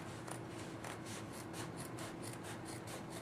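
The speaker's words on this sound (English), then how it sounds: "I am just going to cut this down the seam line." Scissors cut through a thrifted purse along its seam line, giving a faint, rhythmic series of snipping crunches, close and quiet.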